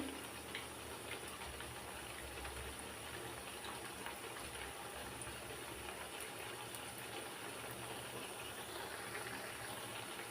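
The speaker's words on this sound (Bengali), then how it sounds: "আর দিয়ে দিলাম এই যে ডোনাটোলগুলো গরম তেলে" Potato donuts frying in hot oil, a steady, even sizzling hiss that holds at moderate loudness throughout without pause.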